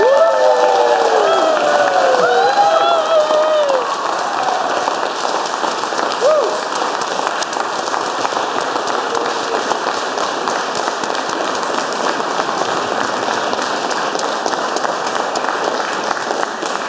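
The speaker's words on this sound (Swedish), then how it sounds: "Så jag tycker vi ger John och Camilla en stor applåd." Wedding guests give the newlyweds a long, dense round of clapping that holds steady throughout, with a few cheers and whoops rising over it at the start.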